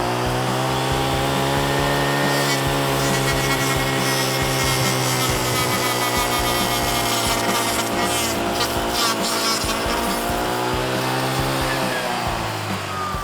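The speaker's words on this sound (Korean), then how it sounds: "이번에 효자손 프로로 맨 아까 전처럼 엄지손가락 굵기만큼의 굵은 나무 가지를 한번 잘라 보도록 하겠습니다." A brush cutter fitted with a cutting blade grinds through a thumb-thick tree branch at high RPM, a loud, continuous, close buzzing whine that holds steady under load for many seconds before easing slightly at the end.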